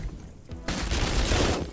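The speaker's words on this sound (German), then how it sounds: "ich glaube, ich habe den Typen aus Versehen erschossen" Burst of rapid gunfire from the pixel-art SWAT game Door Kickers Action Squad, a dense loud volley breaking in after a brief quieter start and rolling on to the end.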